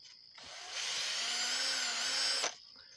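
An electric drill spins up with a .223 brass casing in it for polishing, running at a steady high whine for about two seconds, then winds down and stops.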